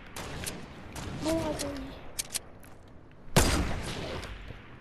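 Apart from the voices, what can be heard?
gunfire from Fortnite video game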